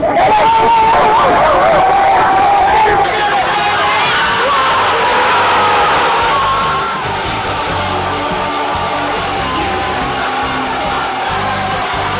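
Football crowd in a stadium roaring for Ecuador's goal against Uruguay, a loud sustained wall of cheering and whoops with voices shouting in the crowd, fading slightly toward the end.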